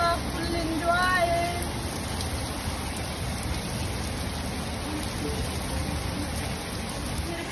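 Heavy rain pours down in a continuous, dense roar of drops, close and steady throughout, with a faint voice briefly audible near the start.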